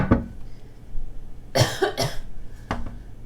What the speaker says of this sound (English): I'm surprised I've coughed so little during this video.